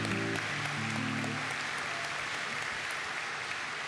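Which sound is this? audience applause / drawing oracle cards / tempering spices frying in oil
audience applause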